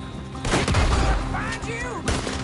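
Several gunshots ring out in a Red Dead Redemption 2 town street shootout, loud and close, with a burst of rapid shots mixed with shouting voices and game effects.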